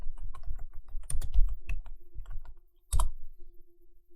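Computer keyboard keys are pressed in quick bursts of clicks while working in Photoshop, ending in a firmer key combination after a short pause, close and clear.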